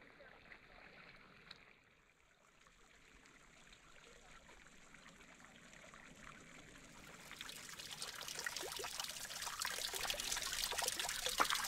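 Hot spring water trickles and splashes down travertine into a series of four pools, a soft wet patter that starts faint and grows steadily louder and closer toward the end.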